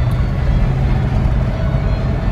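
A 1976 Ford F150 4x4 pickup with a 360 V8 rumbles steadily while driving, a loud, continuous low drone with road noise and no talking.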